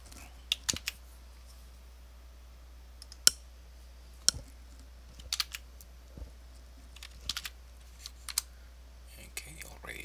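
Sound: typing commands on a computer keyboard

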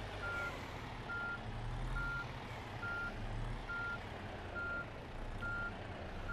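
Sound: truck with trailer reversing beeps, On The Road video game

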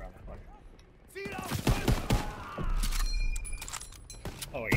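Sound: gunfire in Call of Duty: WW2 video game

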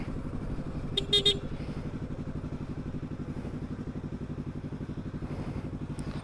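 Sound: Yamaha R25 motorcycle engine put in neutral

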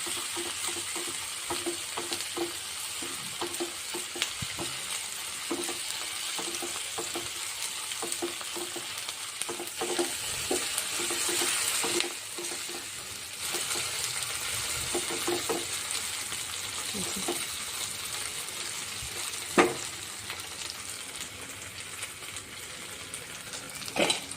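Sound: ginger garlic paste frying in oil

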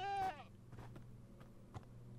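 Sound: goats bleating in video game Minecraft

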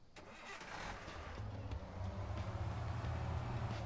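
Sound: car engine starting in a video game

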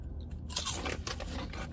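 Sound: crunch of biting a potato snack chip

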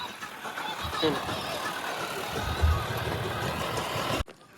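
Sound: tractor engine running on farm field

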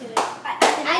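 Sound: clapping at a birthday party

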